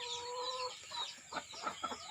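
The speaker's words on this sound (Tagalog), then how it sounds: "At ito naman yung ating mga inahin na nangingitlog" Native laying hens cluck in short, soft bursts close by, a few quick clucks following a brief higher call, with no talking over them.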